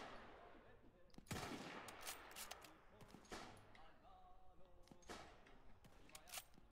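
Musket gunfire in a Roblox video game crackles as scattered sharp shots, one loud and close near the start and the rest lighter and irregular, over a busy battle background.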